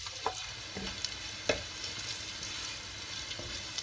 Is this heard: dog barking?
no